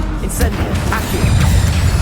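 Incendio and Accio spells cast in the video game Hogwarts Legacy, loud crashing magical bursts and a fiery rumble with sweeping whooshes, mixed with a voice speaking over them.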